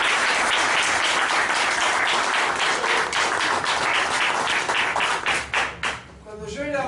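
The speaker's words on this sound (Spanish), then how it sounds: "para que pida un aplauso" An audience applauds loudly and steadily at a Spanish-language talk, dense clapping filling the room for about six seconds before thinning out and fading.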